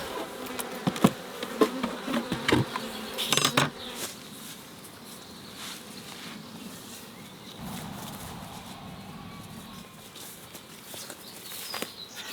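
Honeybees buzz around a freshly made hive split in spring, a continuous close drone with individual bees whizzing past the microphone and a few knocks and clicks early on.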